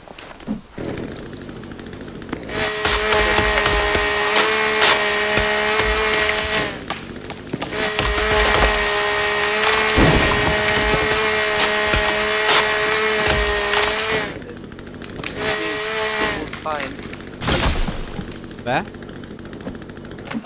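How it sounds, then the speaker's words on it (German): A chainsaw cuts wood in the survival game The Forest, several long loud buzzing runs with the engine revving between cuts, while a person talks over it. "Muss ich mal die Kettensäge rausholen?"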